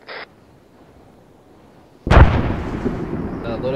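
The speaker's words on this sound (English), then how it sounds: "Second barrage out." After a faint brief blip and a quiet stretch, a single heavy ArmA 3 mortar shot booms loudly and rolls off into a long decaying rumble.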